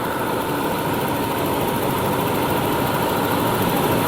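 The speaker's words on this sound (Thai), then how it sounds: "เครื่องยนต์เดินเรียบๆเลยนะครับ" A Toyota van's 2RZ petrol engine idles steadily and smoothly close by, a constant low rumble and hum with no revving or change throughout.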